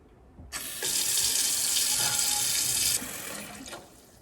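Water gushes from a tap into a pot for a few seconds, a loud steady rush that cuts off and then trickles briefly.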